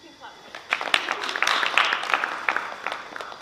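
An audience at a student presidential and junior senator debate claps after a speech. The applause is scattered, building into a dense patter of hand claps near the room before thinning out.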